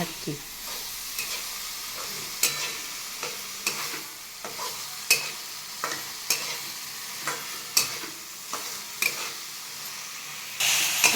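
A spoon scrapes and stirs through sizzling spiced sprouted moth beans in a pan, with regular scraping strokes about once a second over a soft frying hiss.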